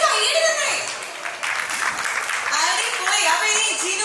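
Wedding guests clap together in a busy, moderately loud burst, with people talking and calling out over and between the applause.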